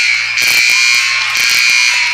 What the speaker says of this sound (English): there's the 3-minute buzzer